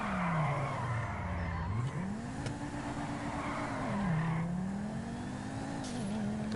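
A car drifting in GTA 5, the engine note rising and falling with continuous tire squeal as it slides, steady and fairly close throughout with no talking.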